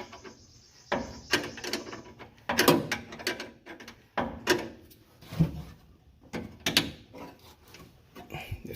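A wrench works at a rusty brake line fitting on a 1956 Chevy, giving irregular clicks, scrapes and metallic knocks in short bursts with pauses, fairly quiet and close, no voices.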